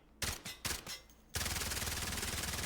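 Close, sharp bursts from a kitted-out rifle in the Delta Force shooter game: a few separate shots, then a rapid, continuous automatic stream of fire, loud and alone.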